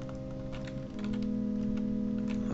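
Computer keyboard keys are pressed in quick irregular clicks while playing Banjo-Kazooie, the light tapping sitting over a steady game music drone with no talking.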